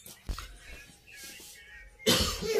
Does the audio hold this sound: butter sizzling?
no